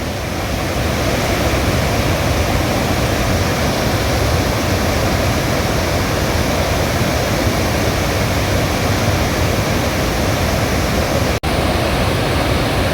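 Dhuandhar waterfall on the Narmada river in Madhya Pradesh, a steady, loud, unbroken roar of cascading water filling the whole clip without voices, with one brief click near the end.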